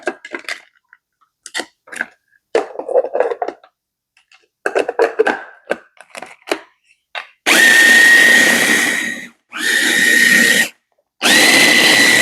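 A kitchen blender whirs through basil leaves and salt in three loud, sustained bursts separated by short pauses, after some quieter clinks and handling noises at the start.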